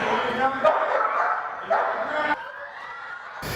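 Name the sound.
police drug-detection dog barking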